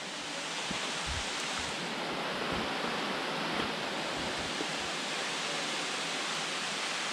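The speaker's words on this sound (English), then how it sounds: "This is Lick Creek Falls." Lick Creek Falls, a waterfall over wet, slick rocks along a trail, pours out a steady, dense roar of rushing water that stays loud and unbroken throughout, with no voices over it.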